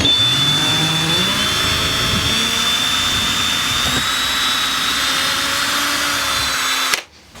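A power drill bores into a wall through an envelope taped to it, a loud, continuous high whine with a slight shift in pitch, stopping abruptly just before the end.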